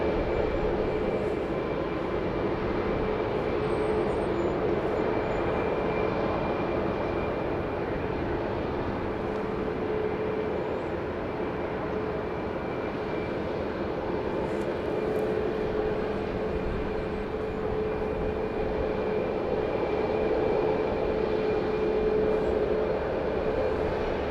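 A Southwest Airlines Boeing 737-700 at Dallas Love Field at night gives a steady jet engine roar with a sustained hum. It holds at an even loudness throughout, heard alone without talk.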